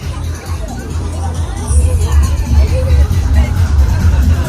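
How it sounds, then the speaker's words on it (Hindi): Crowd bustle outside a busy cafe in Siegen, Germany, with a steady murmur of many voices, traffic rumbling underneath and the noise swelling louder partway through. "ये देखो भीड़"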